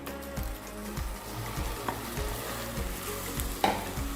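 Two cups of washed, drained rice go into a pan of golden fried vermicelli, bringing a steady close sizzle with rhythmic stirring knocks and a sharper clink near the end, no speech.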